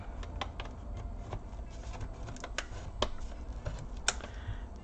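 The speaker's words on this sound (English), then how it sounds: "We're gonna use something sharp to start separating the plastic." A sharp tool pries apart the plastic casing of a Lenovo T430 laptop, giving scattered small clicks and snaps up close over a steady low background hiss.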